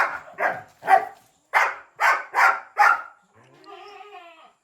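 A dog barks about seven times in quick succession, fairly close, then trails off into a soft whine.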